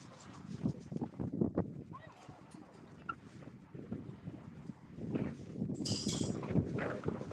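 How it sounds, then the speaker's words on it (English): Gusty wind rumbles and buffets a microphone outdoors at a horse rescue, rising and falling unevenly, with faint shuffling and quiet voices underneath. "Ooh, that wind."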